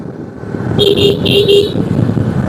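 A motorcycle rides along a road near Payra port in Bangladesh, with steady wind and engine rumble and a horn sounding in two short honks partway through.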